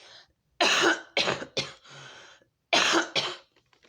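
A burst of harsh, close-up coughing in several quick fits separated by short pauses, with no talking.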